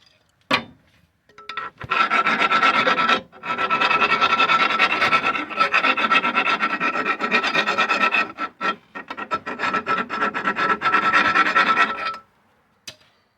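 A hand file rasps over a metal control arm axle bushing from a Jeep XJ, taking off burrs in long, loud back-and-forth strokes with short pauses between bursts, heard close up with no talking.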